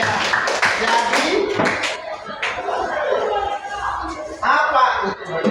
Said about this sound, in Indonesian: Ya, silakan dulu tepuk tangan.